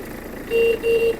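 Two short steady horn toots from a Hitachi CX-150 Japanese mini tractor, sounded one after the other with a brief gap, fairly loud over the low idle of its engine.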